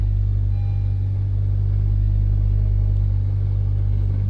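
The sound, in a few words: car engine running after starting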